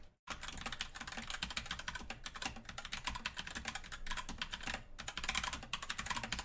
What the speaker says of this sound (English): Let's just give it a quick type here.